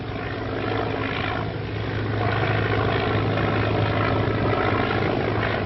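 A 1939-era amphibian aircraft drones overhead with a steady propeller and engine hum, constant and moderately distant, with no voices.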